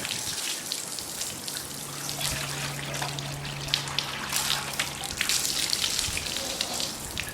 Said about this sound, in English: I'm going to add some water so I can get rid of all the solution and all the grime.